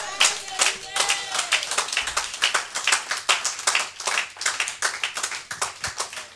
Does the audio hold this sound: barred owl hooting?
no